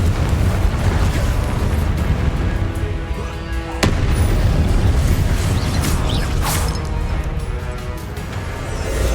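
Confringo spell blasts in the Hogwarts Legacy video game: a loud, continuous rumbling barrage of explosive booms with a sharp crack near the middle, dense and close throughout.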